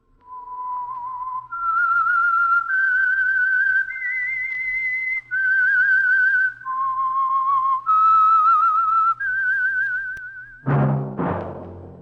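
A solo whistled melody of clear sustained notes stepping up and down, loud and close, ending with a deep resonant tone, the theme of a 1948 radio drama.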